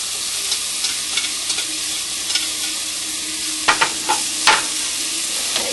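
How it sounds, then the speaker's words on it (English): Onions sizzle steadily in a hot pan alongside seared sika deer venison tenderloin fillets, with a few louder stirring scrapes and clatters partway through and no talking. "Let's put our onions back on."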